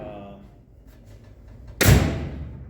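The door of a 1960 Impala convertible lowrider with restored sheet metal swings shut with a single solid slam that decays quickly, after someone talks quietly.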